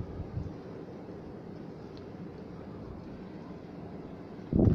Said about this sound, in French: le bruit du vent se fait entendre de tout partout